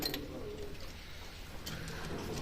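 Pigeons in a pigeon house give soft, low cooing calls, close by over a faint background hiss, with no one talking.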